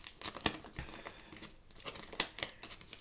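Gift wrapping paper on a birthday present crinkles and tears up close as it is unwrapped by hand, with irregular crisp rustles and a few sharper snaps.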